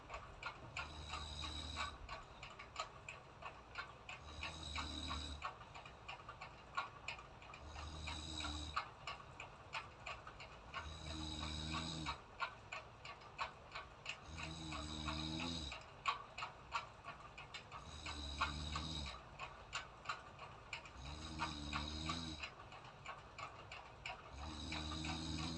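A sewing machine stitching a pant seam runs in short repeated bursts about every three seconds, each a quick rattling whir of the needle, with quiet ticking pauses between and no speech.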